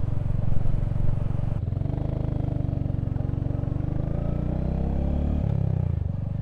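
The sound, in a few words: Royal Enfield Hunter 350 motorcycle engine revving while riding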